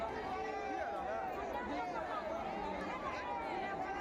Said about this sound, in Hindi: भारी भीड़ वहां पर जमा हो गई